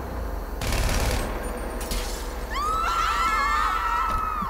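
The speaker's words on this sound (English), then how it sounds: "Now people are scared because I fired off my gun while I wasn't trying to." Gunfire from the player's gun in Grand Theft Auto 5, two sharp, loud shot bursts close together early on, followed by panicked screams and shrill cries from bystanders.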